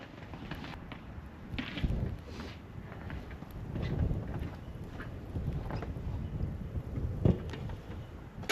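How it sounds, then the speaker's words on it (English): Strong outdoor winter wind buffets the microphone in blizzard conditions, low rumbling gusts rising and falling in uneven surges, with no voices. "too windy out here"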